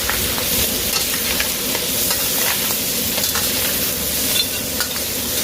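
Red rock crab stir-frying with garlic and pepper in a hot pan, giving a steady close sizzle with scraping stirs throughout and no talking.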